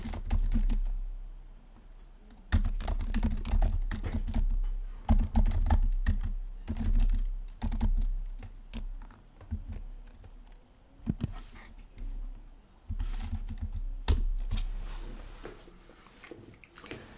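Rapid typing of code on a computer keyboard, keys clattering in dense bursts separated by brief pauses, close and moderately loud with no speech.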